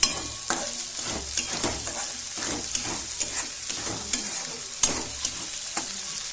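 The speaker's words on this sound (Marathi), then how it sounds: "हा सारण हे चांगलं तेल सुटेपर्यंत परतून घ्यायचं" Peanut masala stuffing for a Khandeshi radish dish sizzles in oil while a spoon stirs and scrapes it in a steady, close rhythm, with no voices.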